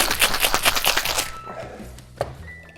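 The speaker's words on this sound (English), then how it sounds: "Really want to give it a good shake to get that egg white or the aqua faba to really froth up in the drink." Cocktail shaker with a sour mix of whisky, Pisco or Amaretto with egg white, shaken hard in a fast rhythmic rattle for over a second, then stopping, followed by a few faint clinks.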